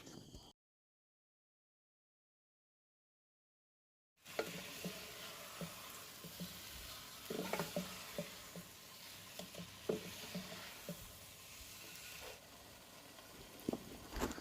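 Mughlai chicken masala fries on a low flame, a steady close sizzle broken by scattered stirring clicks and scrapes, resuming after a brief silent gap at the start.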